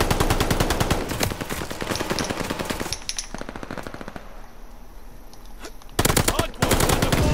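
Rapid automatic gunfire rattles at a video game hard point, loud, close bursts of machine-gun fire with a short lull near the middle before the shooting resumes sharply.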